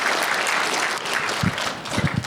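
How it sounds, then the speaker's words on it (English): An audience at a children's event claps for a child, a steady wash of many hands clapping at close range with a few low thumps near the end. "Everyone give Zachariah a big round of applause."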